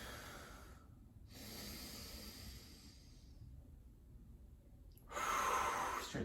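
Slow, close breathing during a yoga hold, heard as soft inhales and exhales with pauses between them, ending in a stronger, louder exhale.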